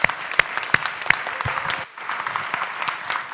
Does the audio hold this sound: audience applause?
yes